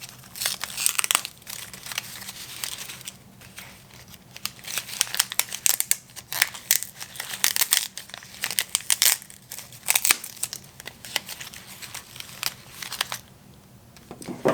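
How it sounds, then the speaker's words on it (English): Plastic backing is peeled off Poly Pom bows, giving a long run of irregular crinkling and crackling bursts, close and fairly loud, with no talk over it. "Start by peeling off the backing from each bow."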